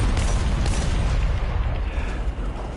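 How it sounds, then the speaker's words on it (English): Artillery shells exploding in a War Thunder tank battle: a loud, continuous low rumble punctuated by heavy booming bursts near the start, with no speech. "I see explosion. That's artillery."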